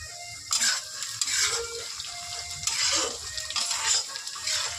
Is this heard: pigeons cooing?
no